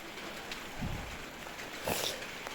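Steady rain hisses outdoors during a mushroom-picking walk, a soft continuous patter at low level with a couple of brief louder rustles.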